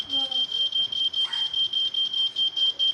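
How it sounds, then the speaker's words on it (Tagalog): An earthquake detector's shrill, high-pitched alarm buzzer beeps in rapid, regular pulses, loud and piercing, with a brief voice at the start. "masakit sa tenga yung alarm. Yung buzzer nya."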